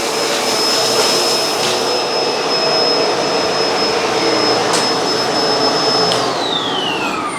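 A Bissell vacuum cleaner runs with a steady, loud whine and roar as it sucks up cracker crumbs, the motor tone holding constant before the pitch drops near the end.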